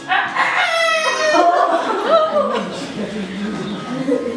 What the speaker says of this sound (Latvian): Un kaut kur tālumā iedziedas gailis.